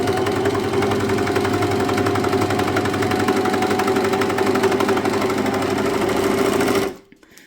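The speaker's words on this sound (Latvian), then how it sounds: "Un mēģinam šūt." A Bernette B48 sewing machine stitches thin knit fabric with a steady, fast mechanical whirr and rapid needle clatter that runs evenly for about seven seconds, then stops abruptly.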